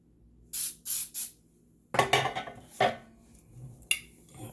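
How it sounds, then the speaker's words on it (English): Three short hissing bursts of cooking spray coat a cake pan for chocolate pound cake, followed by clattering and scraping of the metal pan and a utensil, close and loud with no talk. "Make sure you spray it well."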